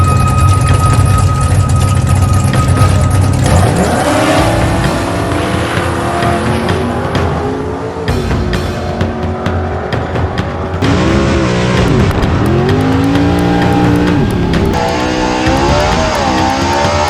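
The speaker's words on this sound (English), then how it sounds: "Now she's race-worthy. Good to know. Now, Brianna, we race" A tuned race car revs hard and accelerates through a race, its engine note rising and falling through gear changes with loud, continuous roar and occasional tire squeal, no talk.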